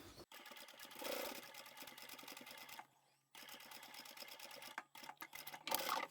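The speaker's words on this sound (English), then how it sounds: "back to the machine and sew all of these edges together" Quiet bursts of rapid mechanical clatter from a sewing machine joining fabric hexagon edges for a Christmas placemat, broken by a short pause midway and a few brief stops, with no voices.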